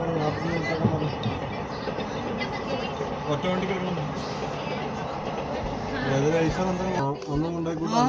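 A train rumbles past at a coastal rail line, a loud continuous roll of wheels and carriages with clattering and squealing, while people talk over it.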